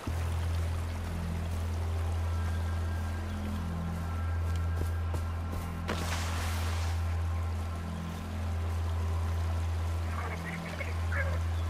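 Birds call in Far Cry 4 over a steady low droning ambience, with a brief burst of rustling noise partway through and faint high chirps near the end.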